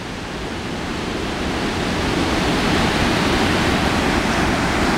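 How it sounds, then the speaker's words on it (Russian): The waterfall on the Khomsara river gives a dense, continuous rushing roar that swells slightly louder, steady and close, with no voices. "Это водопад на Хомсаре."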